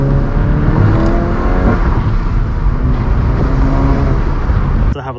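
Volkswagen GTI engine revving with a steady, loud drone and rising harmonic whine for nearly five seconds, then cutting off abruptly near the end.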